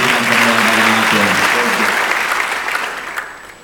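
A church youth conference audience bursts into loud sustained clapping, with a voice over it at first, then the applause slowly fades.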